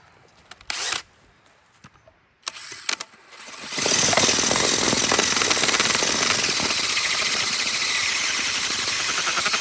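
A trimmed deck piece is ground with a power grinder. After a few short clicks and bumps, the grinder starts up and settles into a loud, continuous, close-up whine that holds to the end.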